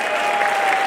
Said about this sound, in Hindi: अरे जोर से ताली बजाते रहना।